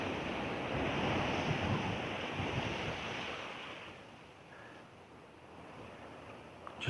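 Wind buffets a microphone outdoors while a camera slider shot is filmed, producing a continuous low rumbling roar that is strongest early on, eases slightly toward the end, and is heard with no voices.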